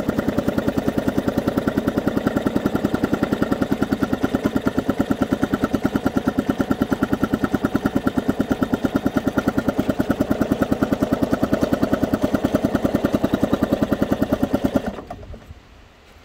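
A 1952 Elgin 2 hp air-cooled outboard motor runs in a test tank with a rapid, even, loud put-put firing rhythm for about fifteen seconds, then cuts out abruptly into near silence.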